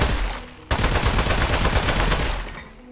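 A sustained burst of rapid gunshots from Aperture Desk Job, crackling fire that starts abruptly after a brief lull, holds loud and continuous for about two seconds, then tapers off.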